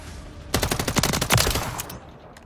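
Rapid automatic gunfire bursts in the video game Modern Warfare 3, a dense rattling volley of close shots lasting about a second and a half, then cutting off, no talk over it.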